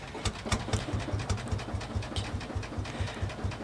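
An Ursus C45 20-horsepower two-stroke single-cylinder diesel tractor, a game mod, idles with a steady, fast thumping beat of low pulses that runs evenly throughout.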